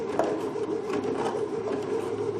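A Baby Lock Sashiko sewing machine stitching with the needle-up setting, a steady close mechanical whir with faint rhythmic ticks repeating evenly throughout.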